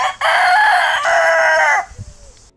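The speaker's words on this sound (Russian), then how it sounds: "Кукареку." A rooster crows loudly and up close in a long, harmonic-rich call, then breaks off into quieter low sounds, at a leafy, green bungalow hotel in Çıralı, Turkey.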